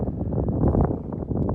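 Wind buffeting a microphone outdoors beside a Chevrolet Camaro SS, a close, continuous low rumble with gusty swells and no talk.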